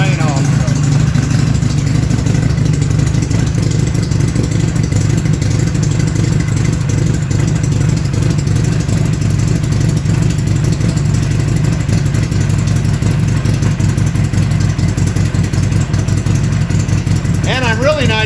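A cold Buell XB12Scg Lightning Low motorcycle engine idles fast and steady up close, a loud, even thrum with some mechanical clatter running throughout.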